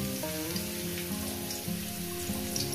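Garlic and dried red chillies fry in hot oil with a soft, continuous crackling sizzle, while faint background music plays underneath.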